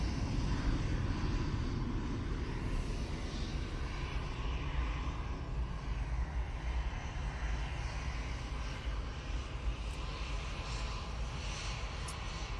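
An airliner climbs out of Manchester Airport for Alicante, a loud broad jet roar that is strongest at the start and slowly eases as it draws away, with no talking.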